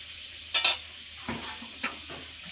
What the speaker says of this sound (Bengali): আমার মাংসের আলুগুলো কত সুন্দর লাল লাল করে ভেজে নিচ্ছি